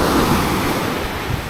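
Rough surf rolls and crashes at night on an ECR beach near Chennai, a loud, dense, continuous roar of waves mixed with wind buffeting the microphone.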